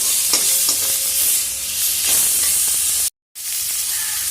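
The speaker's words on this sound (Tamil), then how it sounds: "கொஞ்சம் எண்ணெய் அதிகமாகவே ஊற்றி வணக்கிக்கோங்க. இந்த எண்ணெயிலேயே வணங்கணும்." Mint leaves sauté in plenty of oil in a pan, a steady close sizzle and hiss with occasional stirring scrapes, broken by one brief silent gap.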